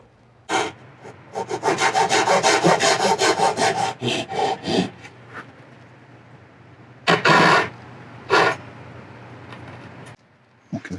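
A handsaw makes a few relief cuts into the back of a wooden drawer, quick rasping strokes in close bursts, then a pause and two more short strokes, with no talking.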